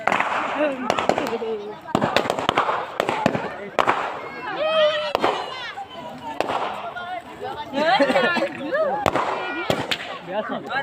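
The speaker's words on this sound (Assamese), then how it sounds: "ফটকা ফটা দিছে একদম" Repeated sharp firecracker bangs pop at irregular intervals, loud and close, over a noisy crowd with people talking and shouting, during a Bhogali Bihu Uruka night celebration.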